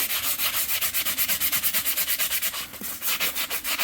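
A horse's hoof being sanded after shoeing, a close, rhythmic rasping of rapid back-and-forth strokes with a brief pause partway through, no talk.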